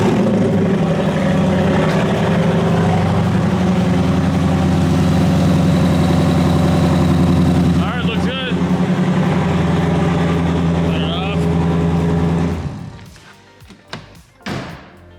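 A Chrysler 300 Scat Pack engine idling loud and close with a steady deep rumble, a few brief thumps partway through, then the sound cuts off near the end, leaving faint clicks.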